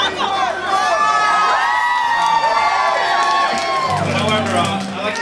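Live concert audience cheering and whooping in a sustained, loud roar of voices with scattered shouts and some clapping, fading slightly toward the end.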